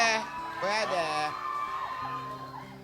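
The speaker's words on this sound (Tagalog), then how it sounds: "sumisigaw na yung audience" A studio audience at a noontime variety show shouts and cheers loudly in a sustained roar, with a host's voice talking over the crowd throughout.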